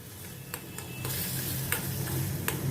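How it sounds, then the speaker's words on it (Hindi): Onion frying in a pan with dry spices for a restaurant-style bhindi masala: a low, steady sizzle broken by several crisp spatula taps and scrapes, close and fairly quiet, without any speech. "इन मसालों को भी अच्छी तरह से मैं प्याज के साथ भूनती हूँ।"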